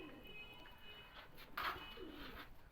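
Pigeons kept for sale coo faintly in a quiet setting, a soft low cooing with a brief louder chirp partway through.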